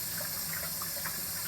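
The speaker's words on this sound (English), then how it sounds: "You hear it dropping into the tank." Water runs through a hose into a water heater tank during a home repair of a leaking connection, a steady, fairly quiet hiss of flow with faint splashing and no voices.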